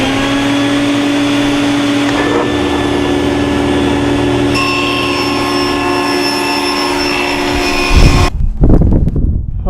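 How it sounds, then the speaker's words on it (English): A board being run through a power saw for a first cut, a steady loud machine whine and hum holding for about eight seconds before the blade winds down into rattling clatter at the end. "So here we go with the first cut."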